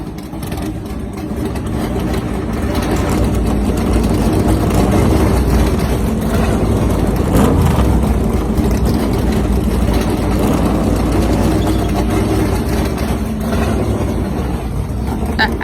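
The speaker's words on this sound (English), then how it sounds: "Great to see the engines fired here." Multiple stock car engines idle together in a NASCAR Racing 2003 video game race, a dense, steady low rumble that holds loud and continuous throughout, with no voices over it.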